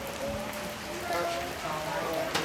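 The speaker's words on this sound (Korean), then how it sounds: "비가 쏟아지기 시작한다." Heavy monsoon rain pours down in Cambodia, a steady dense hiss of drops drumming on surfaces that stays constant throughout, with faint voices mixed in.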